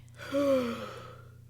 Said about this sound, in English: you just started yawning like really loudly